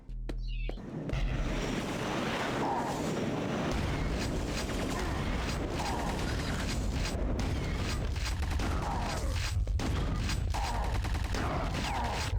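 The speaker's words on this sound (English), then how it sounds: "Let the airstrike sort them out." Airstrike explosions in Quake 2 roll on almost without a break, a dense, loud wash of blasts and rumbling gunfire-like bursts that holds steady for about eleven seconds after a short quiet start.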